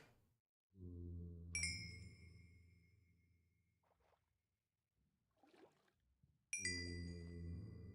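Minecraft's experience-orb pickup chime in a 1.20.1 adventure RPG modpack rings out twice, bright and bell-like, each time over a low droning hum, with faint shuffling in between.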